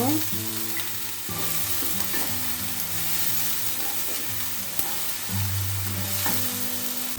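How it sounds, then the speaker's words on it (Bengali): Onion paste fries in a pan for a Bengali gondhoraj meat dish, a steady close sizzle with stirring that runs without pause under soft background music. "দুটো পেঁয়াজ পেস্ট করে নিয়েছি দিয়ে দেব পেঁয়াজটা একটু ভেজে নেব"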